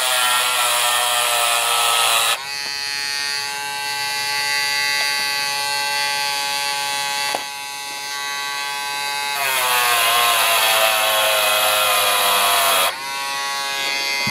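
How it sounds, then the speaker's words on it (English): A Dremel rotary tool fitted with a brass brush whines loudly as it cleans model train wheels, its steady high-pitched motor tone dropping and rising again as it is switched between wheels, with no talking. "Always use a brass brush in the Dremel."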